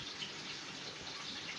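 Running tap water pours steadily over a bell pepper and celery being washed in a kitchen sink, a continuous close splashing hiss with no talking.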